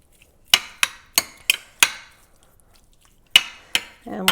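Peppered chicken stirred in a marinade, several sharp clinks of a utensil against the dish in an uneven rhythm, close and fairly loud, with quiet gaps between strokes.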